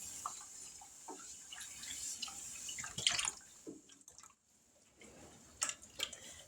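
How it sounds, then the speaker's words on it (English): Half and half poured from a container into a cooking pot makes soft, faint liquid splashing and dripping, with a short pause partway through. "Now we're going to pour in this whole container of half and half."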